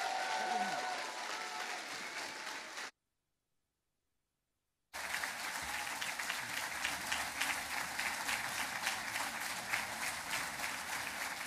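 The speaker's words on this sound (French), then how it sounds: "Je vous invite à applaudir" A party congress audience applauds Oskar Lafontaine with sustained, dense clapping from a large hall, interrupted by a two-second gap of silence, then resuming steadily with faint rhythmic clapping mixed in.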